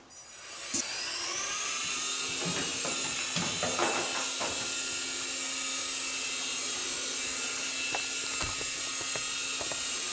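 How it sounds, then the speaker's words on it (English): A JJRC SY003B Captor 3-channel infrared toy RC helicopter spinning up and flying at max throttle, a loud, steady high-pitched motor whine with small knocks and a faint background voice. "I'm going to let my son Kaya review the red one by flying it around"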